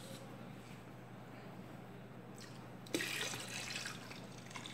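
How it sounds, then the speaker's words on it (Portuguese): Hot water poured into a liquid coconut soap mixture, a soft trickle that swells into a brighter, louder splashing pour partway through, close by with no talking. "Se eu for colocar um pouquinho só mais de água quente"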